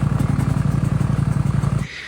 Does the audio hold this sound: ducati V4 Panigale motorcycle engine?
yes